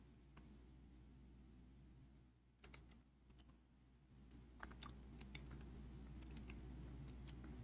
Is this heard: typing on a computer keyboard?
yes